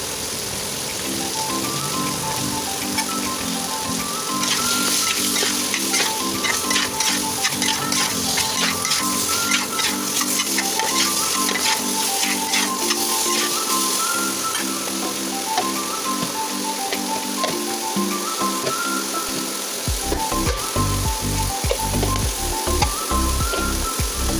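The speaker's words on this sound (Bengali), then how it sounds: "তো এই মশলা দিয়ে কষাবো, কষিয়ে তারপরে জল দিয়ে দেবো।" Spice masala of turmeric, chili, coriander and cumin powders frying in a pan, a steady crackling sizzle running under loud melodic background music, with a few stirring scrapes.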